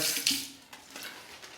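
A short trickle of water pours into an older, nearly empty jar of shaving soap, a quick splash at the start that fades into a soft, close wet dribble.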